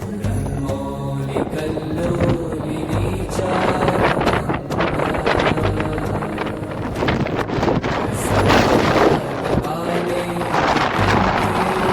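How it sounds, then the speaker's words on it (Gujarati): Strong wind buffeting close to the microphone on a mountain climb at Girnar, rumbling gusts and flapping noise that rise and fall throughout, with no speech. "અને પવન બહુ છે"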